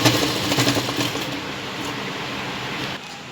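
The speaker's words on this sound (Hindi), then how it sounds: "अब हम यहाँ पर इस तरीके से रखते हुए इस तरीके से तिरछी सिलाई लगाएंगे" A sewing machine runs steadily while stitching the shoulder seam of a lined katori blouse, a continuous close mechanical whir that fades slightly and cuts off near the end.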